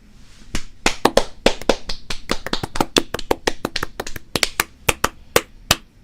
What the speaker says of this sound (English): Should we clap it in?